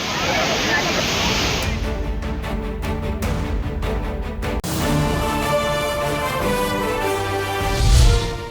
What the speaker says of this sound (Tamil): தொடர் மழை எதிரொலியாக தென்காசி குற்றால அருவிகளில் கடும் வெள்ளப்பெருக்கால் அருவியில் குளிக்க தடை